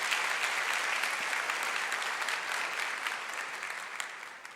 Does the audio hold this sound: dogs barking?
no